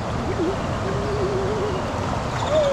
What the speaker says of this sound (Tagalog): May ibon doon eh no.